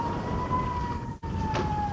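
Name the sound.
air raid siren sounding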